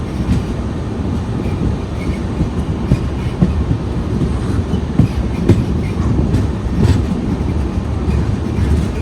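The Thiruvananthapuram Rajdhani Express runs on rails with a steady, loud rumble and rhythmic wheel clatter heard from inside the moving train, with no voices.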